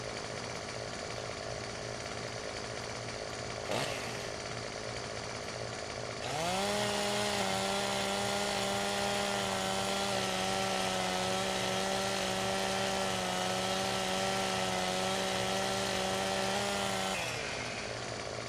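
Loud chainsaw in the video game Farming Simulator 17 revs up and runs steadily for about eleven seconds while trimming a tree, then cuts off, over a constant background hum.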